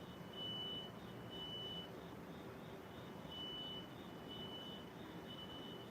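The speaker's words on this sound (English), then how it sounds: "It sounds like a truck, though, backing up." A truck backing up somewhere in the distance sounds faint, steady reversing beeps in an even repeating pattern over a constant low hiss of outdoor background noise, with no one talking.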